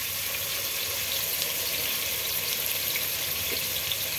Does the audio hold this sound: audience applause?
no